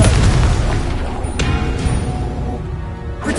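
Blasting Confringo spell explosion in Hogwarts Legacy on PS5, a loud low boom with crackling burst tails, dense and continuous through the moment, with a couple of sharper pops near the middle and end.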